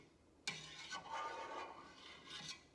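A knife cuts soft mozzarella curds into strips in a pot of whey, giving faint, wet scraping and rubbing strokes that begin with a light tap and repeat a few times, quiet and close.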